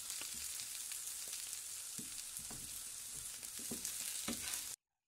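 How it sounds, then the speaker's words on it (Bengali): Matar paneer curry sizzling in a frying pan as it is stirred, a steady hiss with spatula scrapes recurring every second or so, then silence right at the end. "ভালো করে মিক্স করে নিই"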